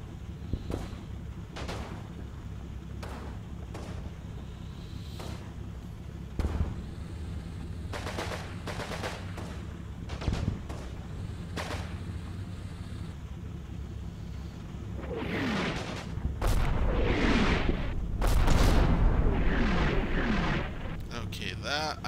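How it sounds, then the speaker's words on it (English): Artillery shelling in the Combat Mission war game: scattered deep booms and rumbles recur through the clip, building into a denser, louder cluster of blasts near the end, with someone talking over it. "Shelling that area there, ain't bothered at all."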